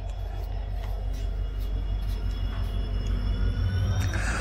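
Madgaon Express train pulling out of Kundapura station, a continuous heavy low rumble of wheels and carriages with faint squeals and clicks on top, steady and fairly loud.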